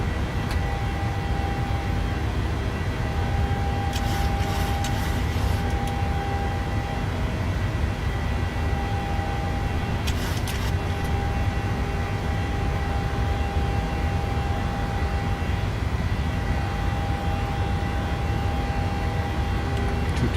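An airliner's engines at climb power in Microsoft Flight Simulator, a steady, loud broadband roar with a constant whine that runs unbroken throughout, with a couple of faint brief clicks along the way.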